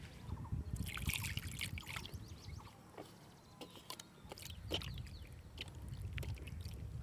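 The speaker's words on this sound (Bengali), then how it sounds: "এই মাছটাকে এখন ধুয়ে নিব।" Water trickles and splashes faintly as a fish is washed, with intermittent bursts of running water and handling noises in a quiet room.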